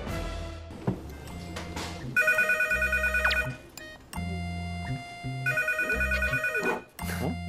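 A telephone rings repeatedly in bursts, a bright electronic ring pattern over a steady, loud background of music with low beats.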